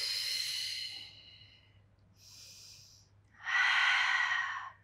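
Three breaths during a Pilates spine mobility exercise, close and airy: a long exhale, a shorter softer breath, then a stronger rushing exhale, alone over quiet background.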